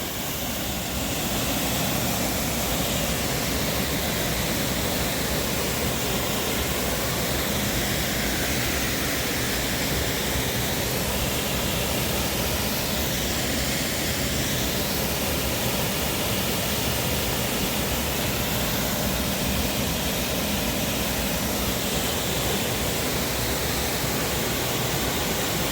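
The JPS Falls waterfall in St. Elizabeth roars loudly and continuously, a dense, unbroken rush of falling water heard close by, with no voices.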